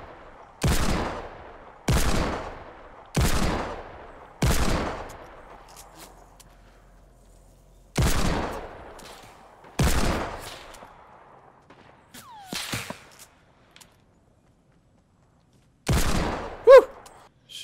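Gunshots in the video game Fortnite crack out loud and sharp, a string of single evenly spaced shots with short decaying tails, then a few more after a pause.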